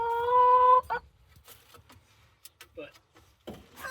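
Backyard chickens from a younger flock on a Central Texas homestead, with one bird giving a loud sustained squawk at the start, then scattered softer clucks and brief calls spread through the rest.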